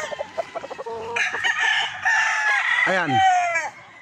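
A high-station Allen Roundhead gamefowl rooster with a very small comb crows loudly and close by in a long, strained call, with someone speaking briefly before it starts.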